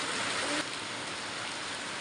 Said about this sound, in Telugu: చూడండి వర్షం ఫుల్ అయితే పడుతుందండి